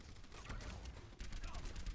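Rapid gunfire from the Overwatch video game crackles in dense bursts throughout, with a heavier barrage after a brief dip, while players talk over the shooting.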